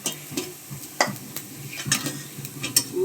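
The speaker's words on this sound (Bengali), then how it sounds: "হয়ে গেছে আমার ভাজা সাবুর পাঁপড়গুলো।" Sago papad frying in a pan: a soft continuous sizzle with scattered light scrapes and clinks of stirring, quiet and close, with no voices.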